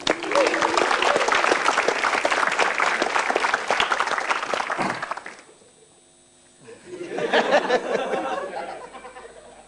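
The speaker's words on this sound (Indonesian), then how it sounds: "Beri tepuk tangan untuk Jui." An audience at a stand-up comedy show applauds loudly with some chatter and laughter, the clapping dies away to near silence after about five seconds, then a second swell of applause rises and fades.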